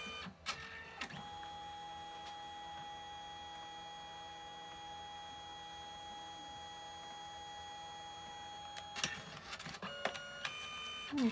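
A Canon Selphy photo printer prints colour layers with a steady mechanical hum and whir that runs close by for about eight seconds. It ends in a burst of clicks and paper-feed clatter.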